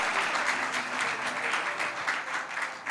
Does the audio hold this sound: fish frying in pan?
no